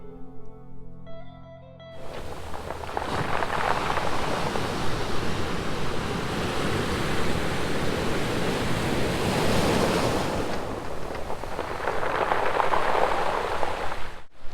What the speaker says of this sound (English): listen to all the rocks cascade on top of one another and make this sort of clapping